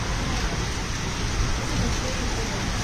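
Heavy rain pouring down in Netrokona, a dense, loud and unbroken hiss of downpour that stays steady from start to finish.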